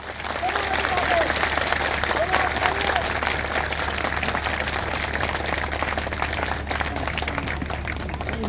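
Loud, sustained applause from a large audience at a Hindi-language public speech on Buddhist heritage, dense clapping that keeps up at a constant level throughout with no talk over it.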